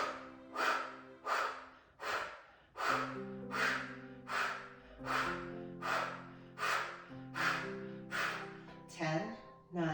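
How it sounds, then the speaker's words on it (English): About a dozen short, sharp yoga exhales, each pumping the belly in, sound up close in an even rhythm over a sustained tonal background. "Short, sharp exhales. And you pump the belly in."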